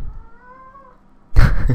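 A cat gives a single drawn-out, whining meow at close range, followed by a burst of loud rustling or bumping noise.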